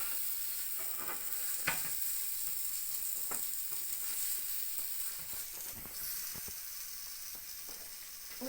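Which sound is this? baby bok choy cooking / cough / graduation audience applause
baby bok choy cooking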